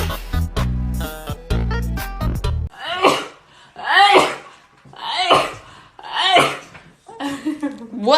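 Several quick sneezes in a row, each a sharp close burst separated by brief pauses, after a stretch of loud music at the start.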